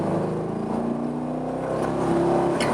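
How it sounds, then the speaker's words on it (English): A Corvette C5 Z06 with a titanium exhaust drones steadily while cruising in freeway gridlock, a low, even engine hum heard from inside the cabin with no revving. "it's a titanium exhaust, so it's lighter, and it just has this really nice sound to it"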